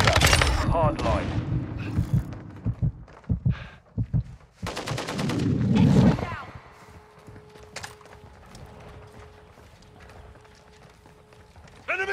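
Gunfire in Call of Duty: Modern Warfare II, rapid bursts and single shots in the first half, loud and close, then a quieter stretch of game ambience with a steady tone.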